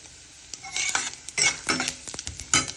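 Cumin and mustard seeds hit hot oil in a pan with sharp crackling sizzle bursts, mixed with scraping of a utensil against the pan, close and uneven.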